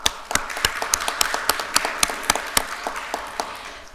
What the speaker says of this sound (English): And that deserves a round of applause for them both as well.